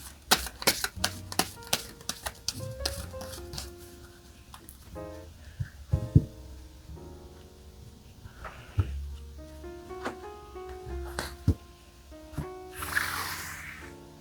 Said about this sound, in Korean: 그 사람과 관련한 카드 한 장 뽑아보도록 하겠습니다.